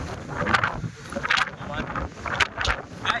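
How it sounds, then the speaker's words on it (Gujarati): Strong monsoon-season wind at Mahuva lighthouse beach buffets the microphone in loud rushing gusts, rising and falling in several bursts over a rough low rumble. "નીચે ઉતરો એટલે ખૂબ જ પવન છે"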